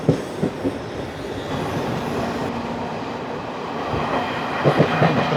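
A Jan Shatabdi Express with ICF coaches runs past, its wheels clattering over rail joints in a steady rumble, with a few sharp knocks and clacks rising near the end.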